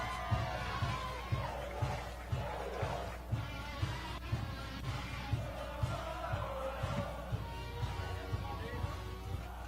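Crowd of fans at a Bassmaster bass fishing tournament in Alabama cheering for the top 12 anglers heading into Championship Sunday, a steady broad roar with rhythmic low thumps throughout, fairly distant and continuous.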